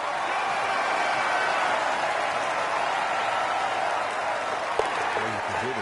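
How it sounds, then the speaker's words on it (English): Crowd cheering and applauding after an eagle in a PS4 golf video game, a dense, steady roar of claps and cheers that holds loudly throughout. "Crowd goes wild after that eagle."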